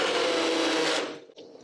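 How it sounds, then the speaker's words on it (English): A kitchen blender runs a quick, loud whir mixing a vegan high-protein smoothie, then cuts off abruptly after about a second, leaving a short quiet tail. "I'll just do a quick blend and that is all mixed in"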